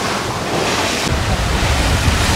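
Rough North Atlantic sea aboard a sailboat, with waves washing and surging against the hull under steady roaring wind and microphone buffeting, loud and continuous throughout.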